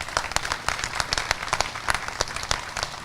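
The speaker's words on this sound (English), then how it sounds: "I want to give them a round of applause for everything they've done." Audience applause at the rededication ceremony of Belleville, Illinois City Hall, a steady burst of clapping from a crowd with distinct individual claps standing out, lasting throughout.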